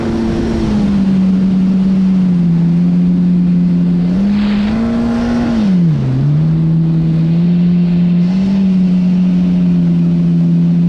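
A GPRSHO JSB Interceptor boat runs at full speed on a test course, its engine a loud, sustained drone with a steady pitch that dips and rises briefly midway, close and without voices.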